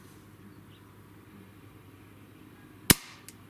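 A single sharp crack from a Weihrauch HW45 air pistol cuts through a quiet, low hum, followed by a faint smaller tick a moment later.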